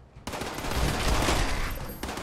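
A gauss shotgun fires in Fallout 76, a single heavy blast that bursts in sharply and rumbles loud and sustained for nearly two seconds before cutting off, with no talk over it.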